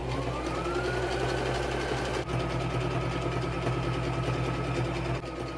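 A sewing machine runs a seam along a fleece cage liner with the presser foot down. Its motor makes a continuous close, humming whir, broken by one short stop partway through.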